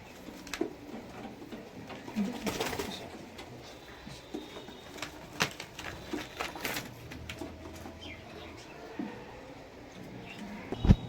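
A male Madras pigeon coos softly after being let go, with scattered coos, wing flutters and rustling in the middle distance over a busy outdoor background.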